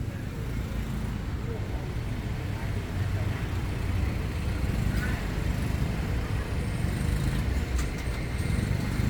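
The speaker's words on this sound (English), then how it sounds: "There's just no escaping Bangkok traffic at whatever time it is" Steady, dense Bangkok street traffic with cars and motorbikes rumbling past at 5:15 p.m., a continuous loud roadway wash with engines droning close by and no pauses.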